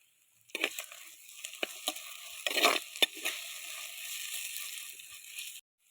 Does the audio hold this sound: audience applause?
no